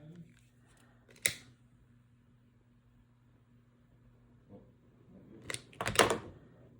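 Scissors cut pieces of chunky blanket yarn flowers, giving one sharp snip early on and then a cluster of crisp snips and rustling near the end, against a quiet room hum.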